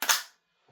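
An EMG CYMA CGS Salient Arms GRY gas blowback airsoft rifle fires one sharp, crisp snap up close, followed by a short silence and a faint click.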